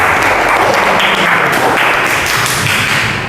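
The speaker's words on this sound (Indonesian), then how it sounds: "Beri aplaus kepada kelompok 1." A group of students applauds in a classroom, a steady dense clatter of clapping hands that fills the whole stretch without a break.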